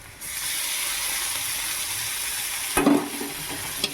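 A paste of green chili, ginger, garlic and cumin hits a hot pan with cabbage and potato, a steady bright sizzle rising at once, then a burst of scraping as it is stirred near the end.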